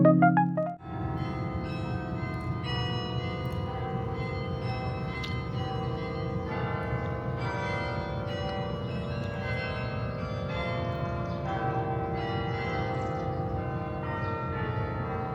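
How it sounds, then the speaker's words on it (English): Carillon bells at the University of Toronto ring out in a steady, resonant stream of overlapping tones after a brief opening strike, sustained and moderately distant with no voices. "What you're hearing is the carillon,"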